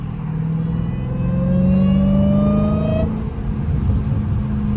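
A Dodge Hellcat engine drones loudly from inside the cabin with a high, rising supercharger whine that climbs steadily, then drops off as the driver lets up.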